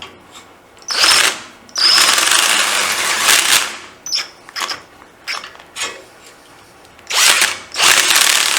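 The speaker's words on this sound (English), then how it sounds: "what I might do is drill about halfway" A power drill bores into a metal part on a BSA 350 motorcycle, running in repeated loud bursts of whine and grinding with short pauses and clicks between them.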